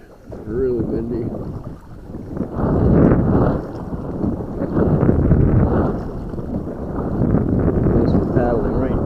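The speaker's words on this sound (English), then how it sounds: "Paddling right into the wind, so that doesn't help" A small boat is paddled straight into strong wind on open water, with loud gusting roar and buffeting swelling over the whole stretch while someone talks.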